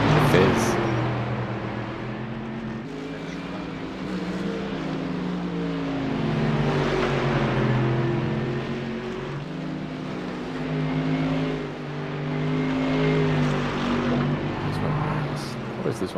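A Ferrari race car engine drones steadily through an iRacing practice session, its revs rising and falling in smooth waves with harmonic engine tones that stay loud and continuous the whole time.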